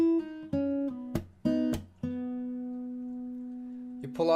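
Acoustic guitar plays bar 131 of a fingerstyle song arrangement: a few plucked notes with a pull-off into open strings, a long ringing note, then a quick percussive slap at the end, close and alone.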